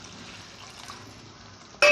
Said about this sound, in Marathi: त्याच्यात आपल्याला पाणी ॲड करायचं आहे